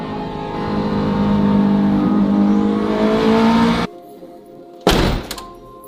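K24 turbocharged Honda Civic race car pulling hard in third gear, loud rising engine drone close by, then an abrupt cutoff followed by a sharp clunk and a burst of noise.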